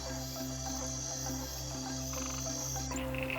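Frogs croak in a steady chorus, a repeating pulse of throaty calls layered over a constant bed of chirping insects, then the scene cuts abruptly near the end.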